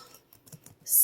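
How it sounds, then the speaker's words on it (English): Quick, light computer keyboard typing: a short run of soft key clicks, close and fairly quiet, ending in a brief burst of hiss. "don't ask me what I was typing there"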